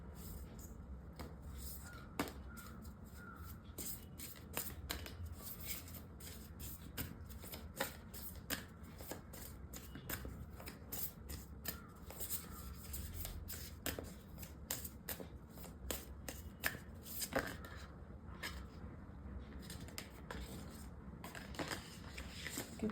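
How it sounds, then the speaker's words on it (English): Moonology oracle cards are shuffled by hand for a tarot-style card reading, a continuous soft riffling and flapping with scattered sharper snaps, quiet and close, with no talking. "now I'm going to be pulling out from the Moonology oracle."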